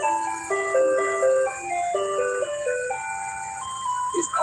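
An ice cream truck plays its tinkling melodic jingle loudly and close by, the electronic tune running on steadily with a faint background hum and no talking.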